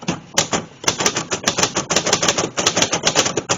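Keys clack in rapid, uneven bursts on a Royal Senior Companion portable typewriter that shows heavy use, the crisp close strikes coming one after another with brief pauses, no voices present.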